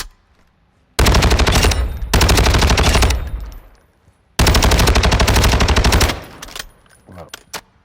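FTAC Ripper automatic fire in a shooter video game, tuned for recoil control, comes as three loud sustained bursts of rapid rounds, the last the longest, followed by a few scattered softer sounds.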